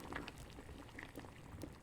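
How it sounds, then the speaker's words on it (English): Potatoes boil in a saucepan, a very faint, steady bubbling with soft pops scattered throughout, close and unbroken by talk. "the slow potatoes bubbling up knocked loudly at the saucepan lid to be let out"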